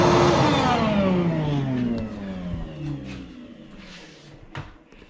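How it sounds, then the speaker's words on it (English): A vacuum cleaner attached to a blast cabinet whirs loudly and then winds down, its pitch sliding lower as it fades, with a few faint knocks toward the end. "Let me turn the vacuum on."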